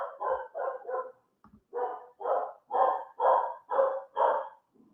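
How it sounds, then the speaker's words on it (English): A dog barks ten times in a steady run of loud, close barks, with only short pauses between them and no talking. "The dog is going mad."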